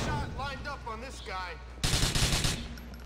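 Gunfire from the video game GTA 4: The Lost and Damned breaks out as a loud, rapid automatic burst in the second half, right after a stretch of someone talking.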